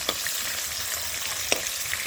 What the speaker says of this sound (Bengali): মাছগুলো একটু হালকা করে ভেজে নিই, বেশি ভাজলে হবে না, কড়া করে হালকা ভাজা করতে হবে।